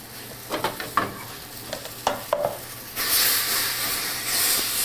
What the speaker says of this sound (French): La réduction de vin rouge est tombée de moitié, je rajoute un peu de purée de carottes.